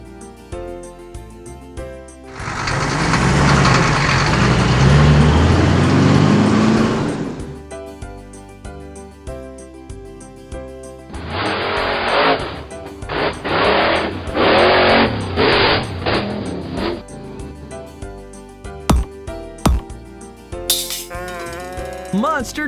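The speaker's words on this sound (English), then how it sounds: "Water tanker." A cartoon water tanker truck's engine roars loudly for several seconds, then gives way to a rattling, chugging run over light background music in a toddlers' alphabet learning video.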